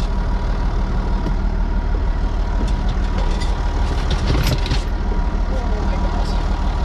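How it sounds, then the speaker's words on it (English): A tractor engine idles steadily at close range, a continuous low rumble with faint clatter, while people talk nearby. "I've never driven a tractor before, obviously."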